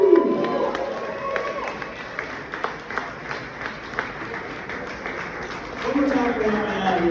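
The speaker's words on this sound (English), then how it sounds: "Clap it up, everybody." Comedy show audience at a vineyard clapping and cheering for a stand-up comedian, a moderate crowd of applause with scattered whoops, a voice speaking over it near the start and end.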